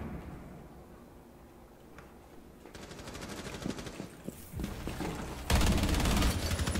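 Gunshots in Rainbow Six Siege, starting quiet and distant, then building into rapid automatic bursts that grow louder and closer, ending in a heavy loud volley.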